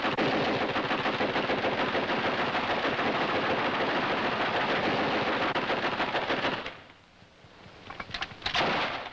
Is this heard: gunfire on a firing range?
yes